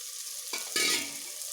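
Tomato masala sautéing in a pan as ground spice powder goes in, a steady sizzle that swells sharply about halfway through as the powder hits the oil, then settles back.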